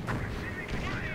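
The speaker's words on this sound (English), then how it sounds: "I do hear the Nebelwerfer" Nebelwerfer rocket artillery fires in a WWII strategy video game, a brief, dense burst of booming, rumbling blasts with a hint of voice underneath.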